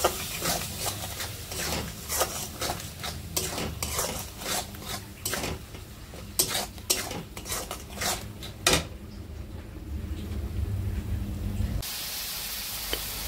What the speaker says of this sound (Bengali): এখন আমি মশলাগুলোকে ভালোভাবে কষিয়ে নেব।